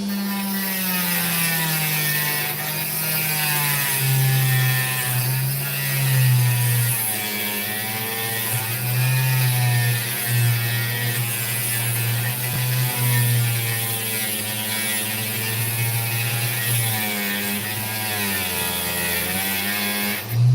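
Opal rough being cut along its sandy seam on a lapidary saw gives a steady, loud grinding whine with a droning hum that holds unbroken for the whole stretch, with no voice over it.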